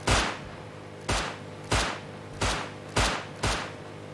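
Gunshots in the Rust video game: six loud, evenly spaced single shots, each with a short booming tail, standing alone with no talk.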